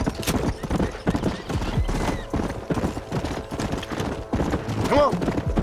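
Close, steady hoofbeats of a galloping horse in Red Dead Redemption, with a brief whinny near the end and a noisy game backdrop.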